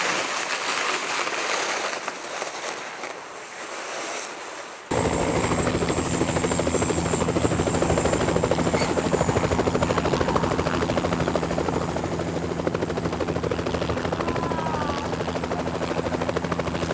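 Over the polar ice, a helicopter's rotor chop and turbine whine cut in loudly after a few seconds of quieter wind-like noise, then hold steady and strong without any speech.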